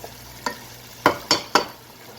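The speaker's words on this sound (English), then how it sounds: "it's been sauteing for about 4 minutes" Onions and garlic sautéing in a pan for seafood pasta: a faint background sizzle broken by four sharp stirring scrapes, the last three in quick succession.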